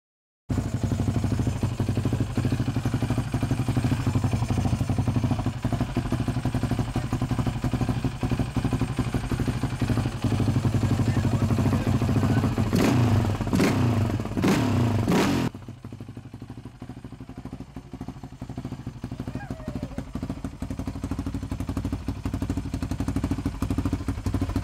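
A Yamaha Raptor 700R ATV engine runs steadily with a low, continuous throbbing intake drone, a few sharp clatters partway through, then a slightly quieter, smoother idle for the rest.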